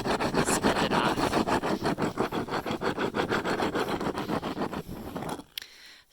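A tanned cowhide is sanded by hand in fast, rhythmic back-and-forth strokes, each giving a close, gritty scraping rasp. The strokes keep a steady pace, then thin out and stop near the end.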